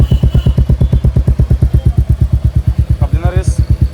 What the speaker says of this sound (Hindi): इसका साउंड ट्राई कराते हैं इसका कैसा है